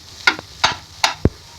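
A spoon scrapes through a spiced potato and pea mash being mixed, four quick separate strokes close by, each a short soft scrape, with the last one a heavier thud.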